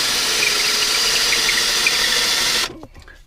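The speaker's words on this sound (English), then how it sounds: "Now we'll drill a testing hole through." A power drill bores a test hole through a motorhome floor for a diesel air heater install, a loud continuous whine held for over two seconds before it stops abruptly, followed by faint handling noises.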